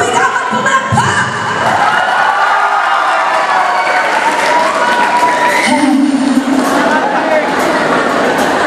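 A concert crowd at Sacred Heart Academy in Lucena City shouts and claps loudly in a sustained roar of cheers and applause, with excited voices rising over the clapping.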